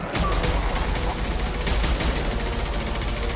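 Continuous assault rifle fire in Mass Effect 2 during a combat mission, as dense rapid shots layered over battle noise, loud and close throughout.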